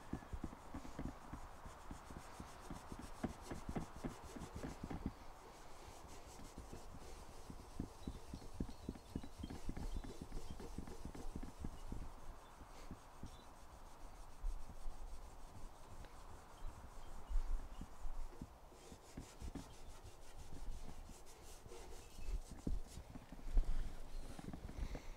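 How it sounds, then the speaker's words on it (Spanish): A worn chrome car bumper being scrubbed to revive its shine: steady, close rubbing and rasping strokes in an irregular back-and-forth rhythm, continuing throughout with no talk. "Ahora le vamos a tallar para que vean cómo revive el cromo."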